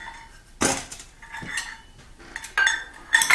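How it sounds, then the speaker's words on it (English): Brown sugar is mixed in a big bowl, with a spoon clinking and scraping against the bowl in a few separate bursts, fairly close. "And we're going to add it right to our big bowl. We're going to mix everything."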